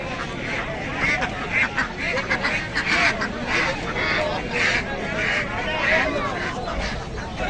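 Ducks for sale at the Golakandail duck market quack and honk repeatedly in a noisy close chorus, with people talking over the birds.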